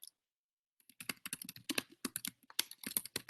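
After a short silence, a rapid, dense run of keystrokes clatters on a computer keyboard, close and continuous, with no speech.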